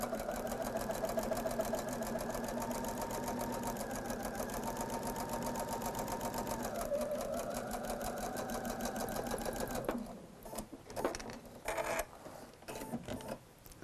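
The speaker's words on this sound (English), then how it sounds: "I just start sewing this seam like so" A sewing machine runs steadily for about ten seconds while stitching a quilt seam, a close and loud even whir, then stops and gives way to a few brief stuttering bursts and handling noise.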